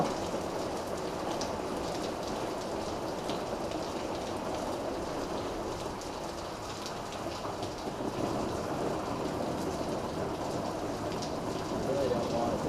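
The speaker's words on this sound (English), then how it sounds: "it'll stop raining." Heavy rain pours down steadily in a Michigan downpour, a dense hiss of drops on surfaces with a low rumble of thunder underneath, moderate in level and continuous.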